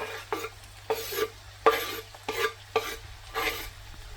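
Finely chopped onions stirred through boiled potatoes in a pan, a series of about seven scraping, rustling strokes with faint sizzling, close and fairly quiet.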